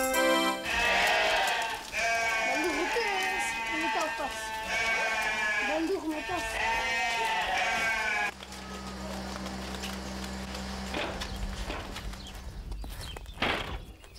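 Goats raised for milk bleat on a family goat farm, with repeated wavering cries through the first eight seconds, followed by a lower, quieter stretch of farm background with some talk.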